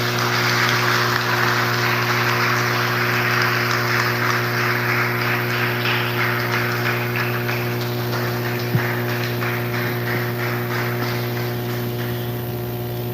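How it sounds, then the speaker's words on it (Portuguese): A church congregation applauding, a long, continuous, rain-like wash of clapping that stays steady and fairly loud throughout, set over a constant low electrical hum in the hall. "você aplaude o Senhor Jesus com bastante alegria"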